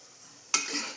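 Curry leaves hit hot oil halfway through, bursting into a sudden loud sizzle that keeps crackling after a quiet start.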